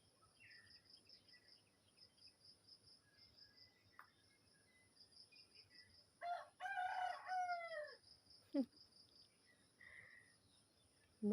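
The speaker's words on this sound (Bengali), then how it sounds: "মুরগির ডাকটা শুনলে মানে পাগল হয়ে যায়।" A rooster crows once at moderate distance in a quiet rural home, its drawn-out call rising over a steady background of insects and crickets, with a few faint clucks around it.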